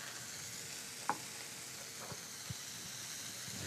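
Scallops sear in a hot pan with a continuous, moderately quiet sizzle and hiss, broken by a few brief clicks and taps as they are set down and moved.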